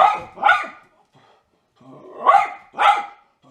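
A dog barks loudly and close in two pairs of sharp barks separated by a pause, with a slight growling edge and no voices.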